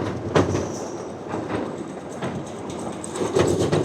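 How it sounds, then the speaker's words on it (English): Amusement park boardwalk train ride, a continuous rumble with rhythmic clacking of wheels over the track and occasional squeaks, loud and close with no talking. "our train ride is already coming to an end."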